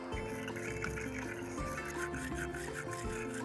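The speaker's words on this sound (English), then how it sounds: "It's always a good idea to clean the terminals and the terminal clamps." A small brush scrubs car battery terminals and clamps, a steady close-up bristly scraping with repeated strokes, fairly quiet and continuous with no talking.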